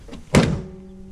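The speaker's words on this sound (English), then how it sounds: "Listen to the hood shut." A 1988 Toyota Corolla AE86 (GT-S style) hood being shut, a single solid thunk near the start followed by a short metallic ring that fades out, close and fairly loud.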